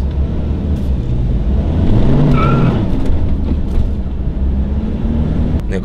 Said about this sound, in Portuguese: Que se acelera, o negócio sai cantando pneu.